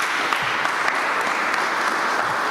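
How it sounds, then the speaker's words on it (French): A crowd claps steadily throughout, a dense, even wash of applause with no voices standing out. "sous vos applaudissements."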